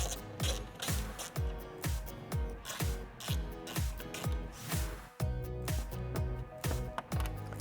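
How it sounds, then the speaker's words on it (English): A quarter-inch Jeep ratchet turning a T40 Torx bit to back out bolts on a Jeep Wrangler JL. Its pawl clicks in a steady repeating rhythm of quick strokes, close and clear, with no talk. "take our Jeep ratchet and our 1/4 inch T40 Torx bit right here, put it in, and take out these 2 T40 bolts"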